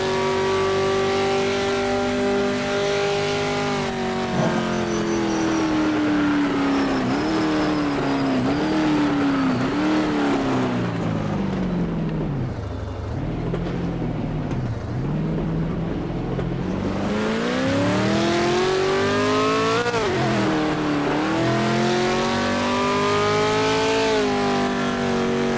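An iconic GT race car's engine roars continuously while racing in a video game, rising and falling through gear changes, easing off mid-lap before climbing again, loud and close with no voices.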